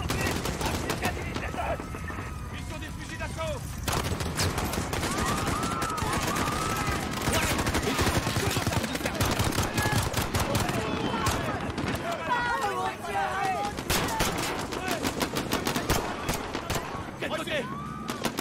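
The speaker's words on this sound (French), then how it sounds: "Des coups de feu, plusieurs agents touchés." Gunfire from the Modern Warfare video game at Piccadilly Circus, dense and continuous crackling shots mixed with running footsteps and crowd commotion throughout, fairly loud.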